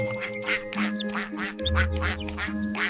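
Cartoon-style duck quacks, repeated in a steady rhythm over a bouncy children's farm song with backing music, bright and up front throughout.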